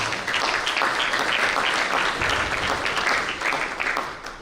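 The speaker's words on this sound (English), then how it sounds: "let's give Matt a nice round of applause." A crowd applauds steadily for several seconds, a dense patter of clapping that tapers off slightly at the end.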